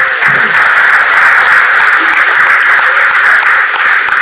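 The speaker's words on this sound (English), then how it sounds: "please, everybody just give yourself a round of applause for being here" Applause from the crowd at a high school class's 50th reunion, a loud, steady wash of clapping filling the room without a break.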